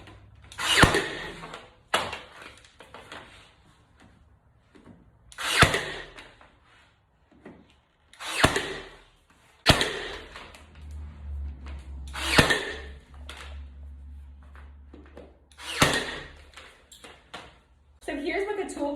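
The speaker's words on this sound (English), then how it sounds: "Use the brad nailer and go ahead and just pop some brad nails into the actual baseboard." Brad nailer firing brad nails into a baseboard while installing quarter round trim, with several sharp, loud pneumatic snaps spaced a few seconds apart and someone talking between the shots.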